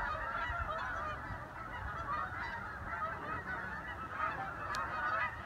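A large flock of geese honks continuously overhead in flight during a nor'easter, dense overlapping calls carried over steady roaring wind, with no talking.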